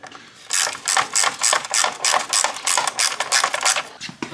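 Rapid ratcheting clicks in repeated bursts as a ratchet wrench backs out T30 Torx screws from the side covers of a Husqvarna Norden 901 motorcycle, close and fairly loud with short pauses between strokes.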